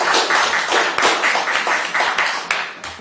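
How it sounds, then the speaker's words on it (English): A room at a council meeting breaking into clapping, a dense, fairly close patter of many hands with a few sharper individual claps, steady for several seconds with no talk over it. "We don't need clapping either"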